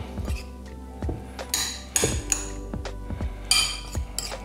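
Lemongrass-marinated chicken being mixed with lemon juice in a bowl, heard as irregular clinks and scrapes of a utensil against the dish, close and fairly quiet with no talking.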